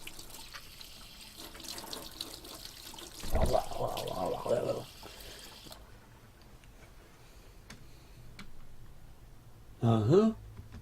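Water runs from a tap in a domestic setting: a steady faint trickle with two louder bursts of gushing flow, the second short and splashy, while a person speaks quietly at times.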